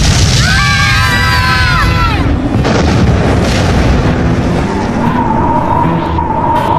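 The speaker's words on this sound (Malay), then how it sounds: "apa yang meletup tadi?" A cartoon explosion from the 2011 animated series BoBoiBoy: high whistling tones slide downward, followed by a loud, sustained rumbling blast and roaring noise that fills the whole stretch.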